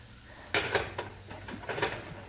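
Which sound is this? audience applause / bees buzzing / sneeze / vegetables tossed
vegetables tossed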